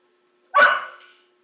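One sharp, fairly loud dog bark from outdoors, short with a quick fade, and otherwise silence.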